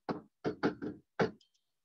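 Knuckles rap on a desk in the shave-and-a-haircut rhythm: five crisp, close knocks in the familiar uneven pattern, then a faint tap.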